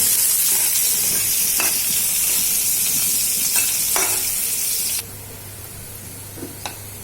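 Crushed garlic sizzles loudly in hot oil with browned onion while a spoon stirs the pan now and then, a steady frying hiss that suddenly drops quieter partway through, with occasional scraping clicks.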